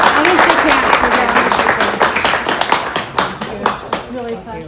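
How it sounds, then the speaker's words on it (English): Audience at a student hackathon showcase on Acton flooding solutions giving presenters a round of applause, loud dense clapping that thins into fewer, distinct claps toward the end, with voices talking underneath. "Another round of applause."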